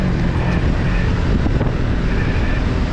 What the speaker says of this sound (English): Wind blast.